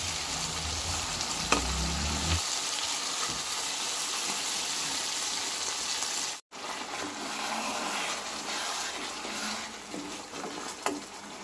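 Katla fish sizzling in hot spice paste in a pan, a loud continuous crackling fry with a few stirring knocks, heard alone without any voices.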